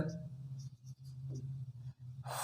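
A pen scratches out a math solution on paper in short, faint strokes over a steady low background hum.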